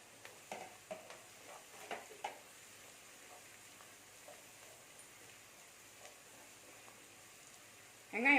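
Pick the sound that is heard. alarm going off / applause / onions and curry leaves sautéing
onions and curry leaves sautéing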